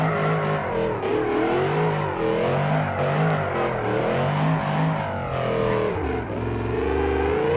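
A drift truck engine in BeamNG revs hard and repeatedly, a loud close rasping drone that climbs and drops in pitch in steady waves and sounds slightly rough at the top, no talk.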